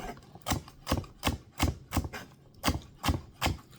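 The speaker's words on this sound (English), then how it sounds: "Cut off the ends, cut off the bits, chop it into fine chop with the rest of your stuff." A knife chops vegetables for a chunky salad on a cutting board, with about nine crisp, evenly spaced chops close by and nothing else heard.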